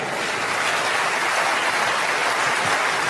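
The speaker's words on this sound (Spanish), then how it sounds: "Tienen que aplaudir más que eso si lo crees" Audience applause at a Spanish-language church sermon, loud and dense, a steady broadband roar of many hands clapping throughout with no talk over it.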